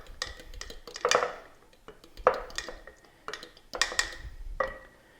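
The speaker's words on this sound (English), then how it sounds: "I'm just gonna mix it, so noisy." A spoon mixes a neglected sourdough starter back together with its gray liquid hooch in a container, giving four or five close, clattering bursts of scraping and clinking, each followed by a short soft squelch.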